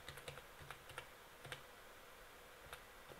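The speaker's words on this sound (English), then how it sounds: "I can use the keyboard" Soft, scattered keyboard clicks come in short bursts with pauses between them, quiet against a faint background hiss.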